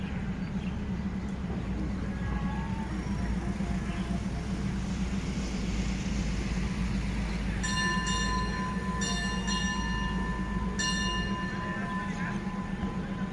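An express train rolls through Nakhon Pathom railway station in the evening, a steady loud rumble of wheels and cars throughout, with bright ringing bell or signal tones sounding in bursts partway through.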